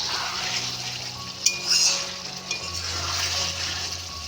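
Chicken curry seasoned with garam masala simmers in a pan with a little water, giving a steady close hiss and bubbling sizzle with a brief clatter midway.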